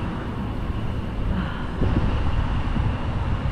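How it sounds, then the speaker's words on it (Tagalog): Strong wind buffets the microphone while riding outdoors, a steady loud low roar that stays constant and alone with no talk. "Ang lakas ng hangin."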